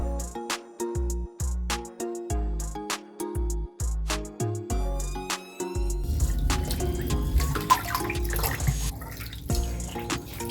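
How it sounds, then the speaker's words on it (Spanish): Tap water runs into a basin being refilled to rinse soap and softener from knitted fabric, first in short separated splashes and drips, then a steadier continuous gush of filling water, close and moderately quiet. "voy a llenar el agua de nuevo."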